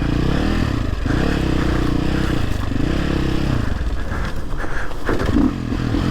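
A Sherco 450 SEF factory enduro motorcycle on a tight green-lane trail runs roughly with its engine cutting out, a loud close sputtering drone that dips and surges unevenly, with scraping and clatter from the ground.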